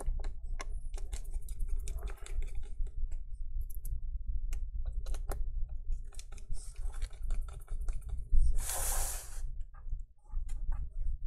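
A screwdriver drives small screws into a MacBook Air A2337 during a screen replacement, giving soft, irregular ticks and clicks at close range, with one brief louder rustle partway through.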